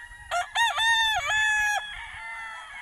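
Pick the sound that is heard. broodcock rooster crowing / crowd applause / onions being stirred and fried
broodcock rooster crowing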